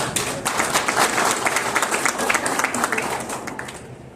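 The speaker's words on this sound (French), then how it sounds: "je vous demande un grand applaudissement, s'il vous plaît" Dense, continuous audience applause fills a hall at a 77th anniversary event held by a Haitian human rights organization, with brisk, close clapping that tapers slightly at the end.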